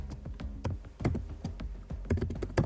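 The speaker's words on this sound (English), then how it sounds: "And I'll type in" Irregular typing on a computer keyboard while a lighting control console is set up, with about a dozen close, crisp keystrokes in uneven bursts and no talk.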